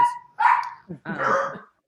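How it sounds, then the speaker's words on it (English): A dog barks several times nearby in a home, the sharp, loud barks coming in short bursts with brief pauses between them. "And my dog is barking."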